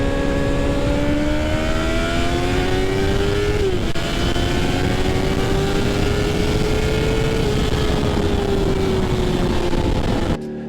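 A Yamaha R6 sport motorcycle engine holds a loud, steady high rev that rises and dips slightly, close up and continuous, then cuts off abruptly at the end.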